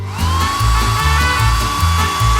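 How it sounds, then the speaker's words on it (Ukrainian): A hair dryer blows hot air to melt ice cream. Its steady high whine rises as it starts and stays loud throughout, over a rhythmic low thumping beat. "Тепер я розтоплю феном морозиво."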